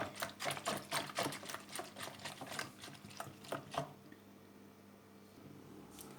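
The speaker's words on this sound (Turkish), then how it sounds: "Onları da çırpıyorum." Quick rhythmic clinking and tapping of a whisk beating eggs in a bowl, close up, stopping after a few seconds into quiet room tone.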